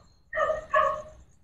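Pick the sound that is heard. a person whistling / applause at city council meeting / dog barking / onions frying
dog barking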